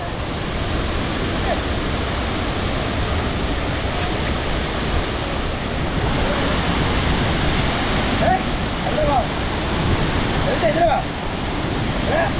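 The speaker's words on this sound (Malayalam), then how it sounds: "മീൻമുട്ടി വെള്ളച്ചാട്ടം ഇതാ നിങ്ങൾക്ക് കാണാം" Meenmutti Waterfalls at Neyyar, Kerala, roars in a constant, loud, even rush of falling water that fills the whole scene without pause.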